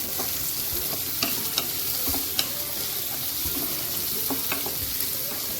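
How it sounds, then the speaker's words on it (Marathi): Onion fries in hot oil for dhaba-style Khandeshi shev bhaji, a continuous loud sizzle with frequent spatula scrapes and taps against the pan, close and unbroken by speech. "आता कांदा आपण चांगला परतून घेऊ तेलामध्ये चांगला लाल असं करून घेऊया"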